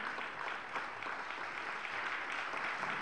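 Guests at a provincial sports awards ceremony in Novara applaud an honoree, a sustained, fairly even patter of many hands clapping that fills the hall with no voices on top.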